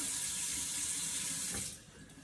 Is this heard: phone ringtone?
no